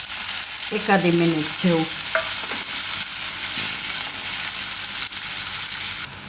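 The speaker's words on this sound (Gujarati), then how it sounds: "ડુંગળીને થોડીક વાર પાકવા દઈશું આપણે" Onions frying in a pan give a steady, loud sizzle throughout, while a voice speaks briefly near the start.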